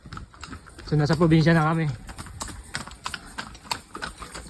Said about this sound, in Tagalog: Ayun yung kabayo